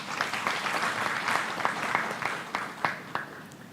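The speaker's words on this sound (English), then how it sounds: "Let's clap to Jesus." An audience at a World Vision Uganda 40th anniversary commemoration and strategy launch applauds, a dense crowd clapping steadily with a few sharper, closer claps standing out.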